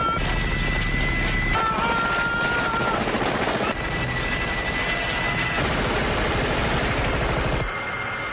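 Loud, rapid bursts of a prop machine gun firing blanks on the 1987 Predator film set, a dense continuous rattle of shots with crashing echoes and brief shifts in intensity.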